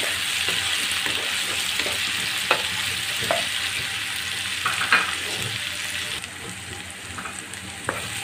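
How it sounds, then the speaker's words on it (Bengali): Ginger and garlic paste sizzle and fry in a pan while cooking a Bengali boal fish masala, a steady close hiss broken by occasional light stirring clicks, with no talking. "আদা রসুনটা ভাজা হয়ে গেছে।"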